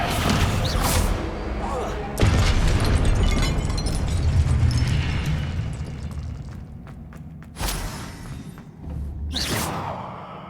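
Confringo blasting-spell explosions in the video game Hogwarts Legacy: several loud booming bursts with whooshing tails, separated by brief gaps, over continuous game ambience.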